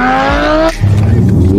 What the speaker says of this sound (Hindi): ये हमारी गाड़ी की आवाज है